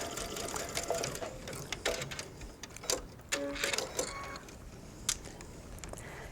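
Short bursts of a sewing machine stitching around the corner of a welt pocket with contrasting thread, faint and intermittent, with brief clicks and pauses between runs.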